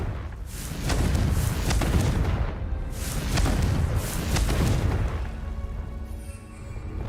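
Confringo blasting spell in Hogwarts Legacy, a series of deep booming explosions rolling in waves, loud and close, with a rumbling tail fading at the end.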